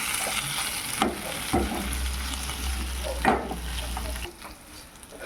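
Green chillies fry in a pan while being stirred, a constant sizzle broken by several distinct spoon scrapes and clunks, close and with no talking.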